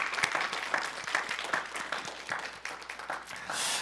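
A church congregation at a Korean-American Methodist New Year's Eve service applauds with steady, moderately distant clapping that lasts throughout, with a faint voice underneath and a small swell near the end.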